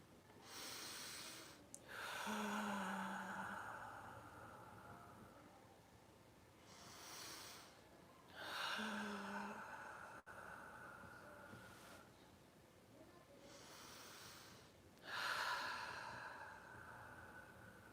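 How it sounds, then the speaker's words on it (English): Slow, deep breaths taken close to the microphone outdoors in the sun, about three long inhale-and-exhale cycles spaced several seconds apart, soft and airy with no talking. "take 5 big deep breaths with it"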